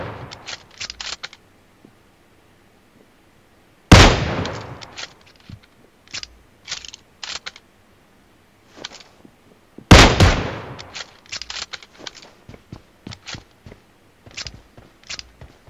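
Sharp, loud bursts of gunfire from the battle royale shooter PUBG Mobile, with two big blasts standing out against scattered shorter shots and clicks and quiet gaps in between.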